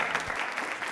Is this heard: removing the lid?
no